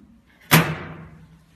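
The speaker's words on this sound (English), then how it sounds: "you pull this wheel, this handle out, and close the door." A machine door being swung shut: one sharp, loud slam with a brief metallic ring that decays over about a second, alone in an otherwise quiet space.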